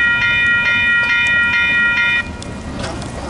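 A CN freight train passes with its horn sounding in repeated sharp blasts, loud and close, above a continuous rumble of rolling railcars. The horn stops partway and the rumble continues.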